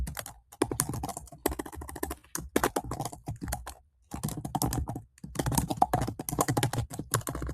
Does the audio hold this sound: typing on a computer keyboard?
yes